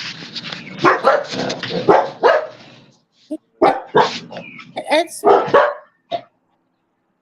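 Dogs barking in sharp, loud bursts close by, several yips and barks in quick succession, with a person speaking briefly among them.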